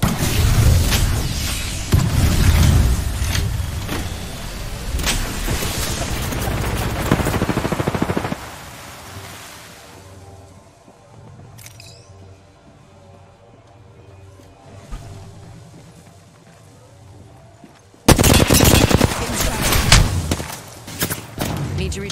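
Gunfire in a shooter video game bursts loudly in rapid clusters, rattles on for several seconds, falls to a quiet stretch with soft tonal sounds, then erupts again in a dense, close volley.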